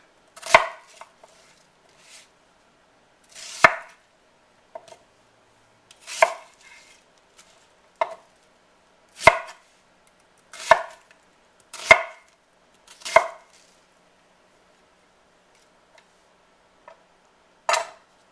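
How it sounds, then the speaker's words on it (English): A kitchen knife chops an onion into big chunks on a cutting board, about a dozen sharp, distinct knocks spaced irregularly with quiet gaps between them, close and clear with no talking. "Cut the onion in half. I break down into thirds, the half into thirds, and nice big chunks."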